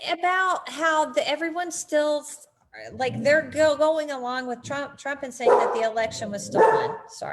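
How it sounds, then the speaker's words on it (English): A dog barks repeatedly in the background while a person talks over it, the barks rising through and between the speech. "that's my dog barking."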